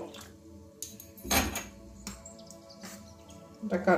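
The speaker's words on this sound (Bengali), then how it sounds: "আমি কাঁটা চামচ দিয়ে নাড়াচ্ছি" A fork clinks and scrapes inside a bowl while water is stirred into a mixture for dhokar dalna, giving a few sharp, close metallic taps and scrapes over a quiet background.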